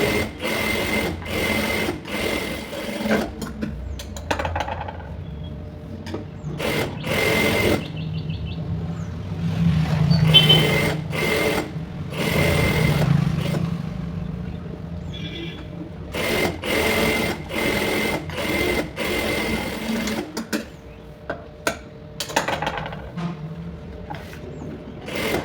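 A sewing machine stitches the lining of a blouse sleeve in repeated bursts of rapid needle clatter, separated by short pauses and handling noises, close by.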